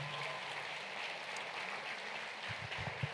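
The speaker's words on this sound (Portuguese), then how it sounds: "Quem pode dar um aplauso ao Senhor" A church congregation at a conference worship session claps for the Lord, a faint, diffuse patter of hands spread steadily through the room, with a few low thumps near the end.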